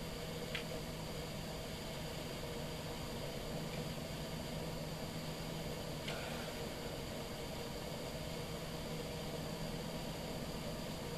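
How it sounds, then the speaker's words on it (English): A stuck car's engine keeps running after losing a wheel, a faint steady idle hum buried in constant broadband noise, with no talk and little change across the stretch. "The engine's still running."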